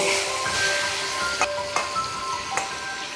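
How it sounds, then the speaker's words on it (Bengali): Pieces of shing fish (stinging catfish) frying in the same oil that just fried potatoes, a steady close sizzle with a few sharp crackles and pops, alone with no talk. "এখন এই তেলেই ভেজে নিচ্ছি মাছগুলো"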